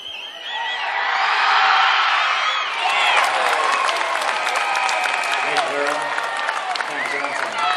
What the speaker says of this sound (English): Those are the North fans clapping.